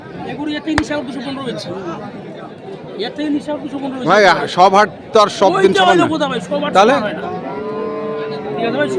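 Cattle moo repeatedly at a livestock market where sacrificial cattle are sold, long loud calls rising over steady crowd chatter as people talk nearby.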